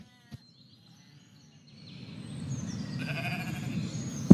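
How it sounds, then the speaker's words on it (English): Sheep bleating in the video game Twist of Destiny, a single wavering bleat rising gradually from silence after a brief click, moderately loud and alone, ending with a sharp knock. "So as this main adventurer gets closer to the next object, like this buzzing mosquito sign or this sheep here, you're going to start to hear them."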